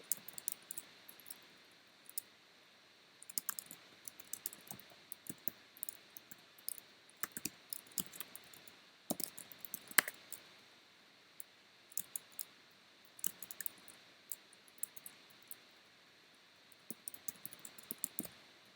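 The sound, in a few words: typing on a laptop keyboard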